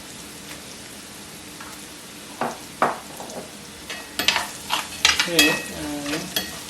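Garlic frying with salt in a pan, a steady sizzle with scattered stirring scrapes that grow louder and busier toward the end, with a brief spoken word near the start.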